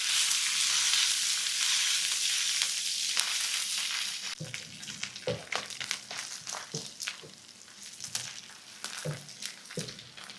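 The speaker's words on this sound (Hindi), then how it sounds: "अब अदरक, लहसुन और ज़ीरे को फ्राई कर लें।" Garlic, ginger and whole cumin seeds fry in oil for a Pakistani-style beef karahi. A loud, steady hiss of sizzling fills the first few seconds, then quieter frying continues under sharp, irregular scraping knocks of stirring.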